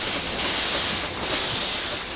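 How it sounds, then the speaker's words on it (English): Espresso machine steam wand purging, a loud continuous close-up hiss of rushing steam that holds steady for about two seconds with slight surges. "we want to purge out the steam wand"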